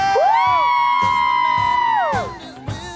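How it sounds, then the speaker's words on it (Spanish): Girls in a Spanish-language TV studio audience let out a loud, sustained collective scream that rises, holds for about two seconds and then tails off, with rhythmic beats of music underneath. "¡Chicas, un grito!"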